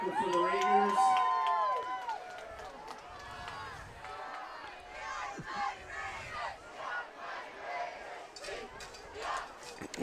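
A high school student section roars and yells at a 2019 Hudson Raiders football game against Eau Claire North. A few loud shouted cries open, then a sustained, close crowd din rolls on throughout.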